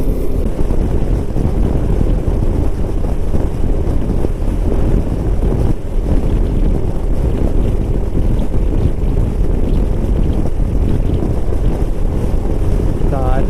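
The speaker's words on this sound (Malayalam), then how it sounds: "കാറ്റടിക്കുന്നുണ്ട്" Strong wind buffets the microphone on the coastal road near Dhanushkodi, a loud constant roar of rushing air and rumble with no clear talk.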